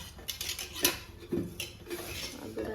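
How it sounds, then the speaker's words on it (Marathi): A metal wok is set onto a gas stove in a home kitchen, giving a few quiet metallic knocks and clatters spread over a couple of seconds. "आता फक्त गॅसवरती कढई ठेवली."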